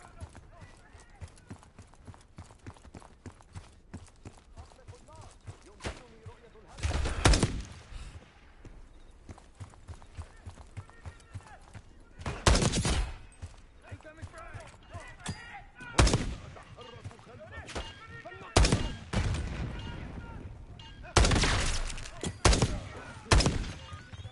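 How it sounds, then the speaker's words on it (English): Bursts of gunfire ring out in a Black Ops 6 campaign firefight, with loud volleys and rapid shots separated by quieter stretches, while game voices speak throughout. "Exchanging fire!"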